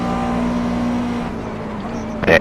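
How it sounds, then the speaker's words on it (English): A McLaren GT3 race car in the iRacing sim racing game runs with a steady, fairly loud engine drone, and a short sharp exhaust pop bursts out near the end. "That McLaren exhaust spitting out those flames sure is awesome."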